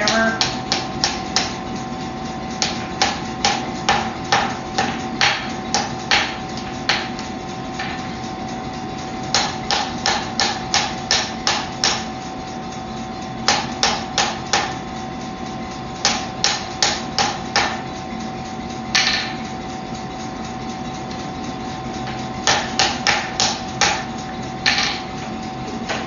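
Steady hammer blows on hot steel while forging a knife, struck in quick rhythmic bursts of several ringing strikes separated by short pauses, loud and close throughout.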